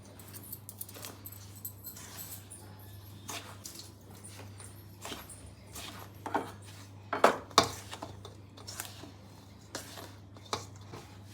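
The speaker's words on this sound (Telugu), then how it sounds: "మంచిగా మిక్స్ చేసుకోవాలి." Rava laddu mixture of semolina and sugar powder being mixed in a bowl, giving soft, irregular clinks and scrapes with a few sharper knocks against the dish, quiet and close over a steady low hum.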